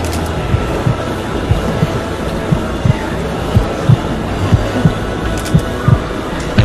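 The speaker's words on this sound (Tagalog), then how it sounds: "Ang lakas ng tibok ng puso mo." Heartbeat sound effect in a dubbed Thai romantic drama, a steady low thumping pulse of double beats repeating at an even pace, soft and muffled beneath a dense music and ambience bed.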